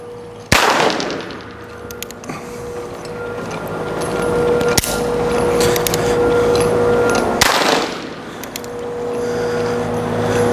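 Three loud, sharp gunshots with live rounds and blanks crack out at irregular intervals during gun-desensitizing work with a horse, each blast followed by a ringing decay over a steady background rumble.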